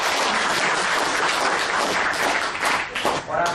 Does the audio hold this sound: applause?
yes